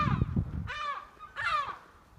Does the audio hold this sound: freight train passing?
no